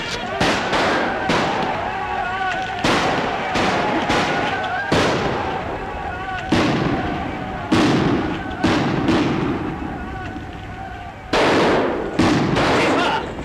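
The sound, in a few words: gunfire in 1941 war film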